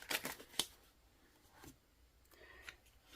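A deck of oracle cards being shuffled, soft papery riffles and rubbing in short bursts, quiet and close with gaps between.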